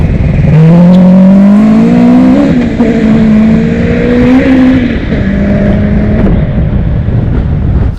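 A 1992 BMW E30 M3 DTM race car with a 2.5-litre four-cylinder engine revs hard and close, its loud rasping note climbing and holding across several throttle pulls.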